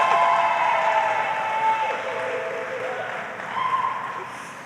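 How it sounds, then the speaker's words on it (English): Applause from the crowd at a Brooklyn public housing event, moderately loud and fading gradually, mixed with a murmur of voices and some background hum. "a big round of applause for all the tenants that came from this fabulous housing"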